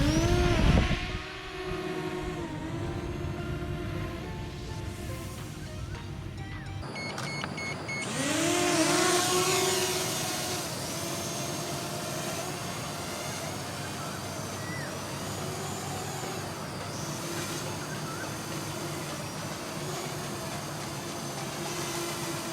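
A JJRC X9 drone spins up and lifts off with a whining, buzzing rotor sound that rises in pitch, then holds a steady high hum with shifting tones as it flies nearby.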